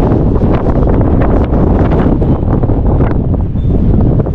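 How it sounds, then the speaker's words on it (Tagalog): Strong wind buffets the microphone in a constant, heavy roar with gusty fluctuations, drowning out any other sound, at a sheltered picnic area in Lethbridge, Alberta. "Napakahangin dito."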